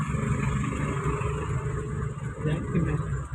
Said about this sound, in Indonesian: lagi mau ngantre minyak pom bensin ini loh macet